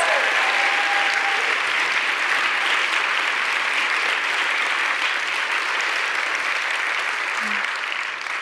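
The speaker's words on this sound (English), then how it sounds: "One more round of applause," Audience at a National Book Awards finalist reading giving sustained, dense applause, loud and even from start to finish, alone without talk.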